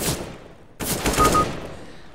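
Gunfire in the video game CS:GO: bursts of rapid shots crackling out, a short volley, a pause, then a longer, louder barrage with ringing tails.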